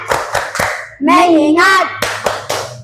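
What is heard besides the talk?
class clapping a rhythmic focus clap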